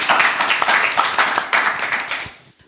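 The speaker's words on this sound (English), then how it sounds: "a round of applause for all the guests joining us today" Studio audience applauding panel guests at a discussion about public toilets, sidewalks and parks in Berlin; steady dense clapping throughout, tapering off toward the end.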